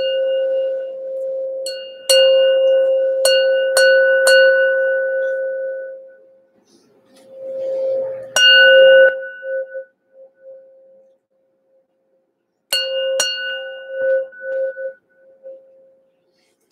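Thin crystal glass is tapped several times, each strike leaving a bright, high ring that hangs on and slowly fades, in short clusters separated by quiet gaps.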